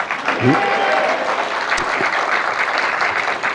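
A church congregation claps together during an evening revival service, a loud, steady burst of many hands with a voice briefly heard over it near the start.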